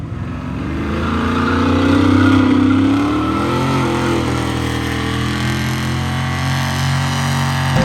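A truck that is down on power revs hard during a skid run at the Freedom Factory, a loud, close engine roar that climbs and then holds at a steady drone.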